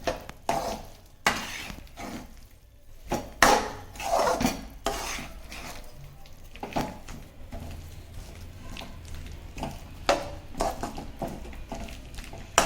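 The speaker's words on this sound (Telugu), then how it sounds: "సిమ్లో పెట్టుకొని స్లోగా కలుపుకోవాలి దీన్ని." A spoon stirs a sticky energy bar mixture in a pan over low heat, scraping and clinking against the metal in uneven, close strokes with brief sharp knocks and no talking.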